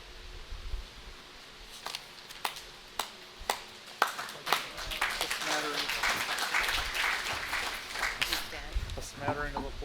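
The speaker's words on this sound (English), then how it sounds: "A smattering of applause." At an annual meeting, a few scattered claps ring out individually, then thicken into a brief patch of light applause from a small audience, with people talking and rustling nearby.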